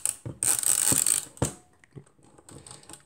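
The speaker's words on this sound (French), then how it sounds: "On utilise la manette d'armement." The winding lever on a Rolleiflex SL66 medium-format camera with a Planar 80mm f/2.8 lens is cranked. Close, crisp ratcheting clicks and a bright mechanical whir are followed by a sharp snap and a few softer clicks.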